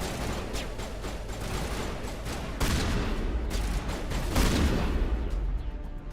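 Dense bursts of gunfire in the Mass Effect Legendary Edition video game, with shotgun blasts and other weapon reports overlapping in a loud, continuous stream of combat noise.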